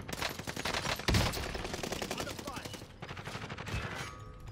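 Gunfire in a Warzone match: dense bursts of shots and rapid automatic fire fill the whole stretch, loud and close, with a heavy blast just after the first second and game sounds layered through.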